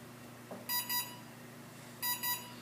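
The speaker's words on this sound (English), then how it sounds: "plug your battery in, and you're going to hear two beeps" An RC car's electronic speed controller gives two pairs of short, high electronic beeps, faint and spaced about a second apart, against quiet background hum.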